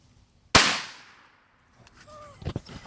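A dud firecracker is lit and goes off with a single sharp, loud bang that rings out and decays over about half a second. Quiet follows, then faint rustling and a brief voice.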